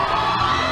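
Crowd cheering in the arena at a horse show in Cremona, a brief, steady roar of many voices shouting and whooping.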